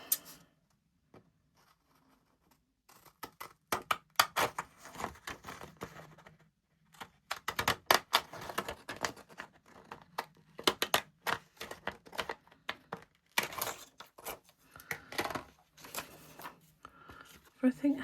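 Japanese scalloped craft scissors cut through scrapbook paper in irregular runs of crisp snipping clicks, close and fairly quiet, with short pauses between cuts.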